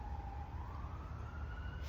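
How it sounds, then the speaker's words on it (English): A faint emergency siren wails in the distance, a single rising tone drifting upward over a low background rumble, with no one speaking. "Sirens for no reason."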